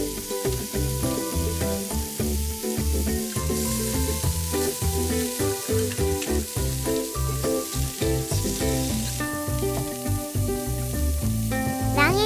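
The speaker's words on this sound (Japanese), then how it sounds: "卵を焼きます。 仕上げにベーコンを並べて" An egg fries in a pan with bacon for a bento lunch, producing a continuous sizzle partly buried under loud, rhythmic background music.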